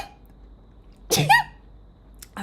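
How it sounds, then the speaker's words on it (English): A single sharp, close sneeze bursts out after a quiet stretch, followed by a brief breathy noise. "Sorry for the sneezes and the"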